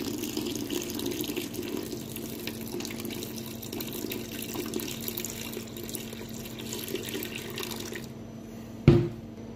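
Water pours in a steady, fairly close stream into a bowl holding levain for bread dough, running for about eight seconds before stopping, followed by a single light knock.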